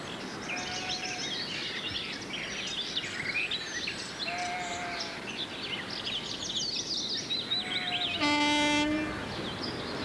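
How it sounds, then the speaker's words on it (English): A British Rail diesel multiple unit runs along the line with a low rumble, then sounds a loud two-tone horn blast near the end, while birds call and chirp throughout. "the familiar cry of the lesser-spotted DMU"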